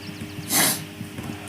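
A single short, sharp sniff through the nose, close by, rising briefly out of a quiet room.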